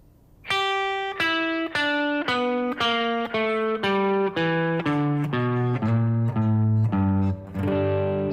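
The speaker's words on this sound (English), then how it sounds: "We can also add the blues note to this scale." An electric guitar plays a slow descending major blues scale, one clear sustained note after another, about a dozen evenly spaced, bright and close.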